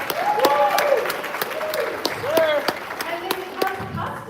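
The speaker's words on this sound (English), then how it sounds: "Give yourselves a huge round of applause." A business conference audience claps loudly and continuously, a dense wash of applause with scattered sharp claps, while a voice speaks over it in bursts.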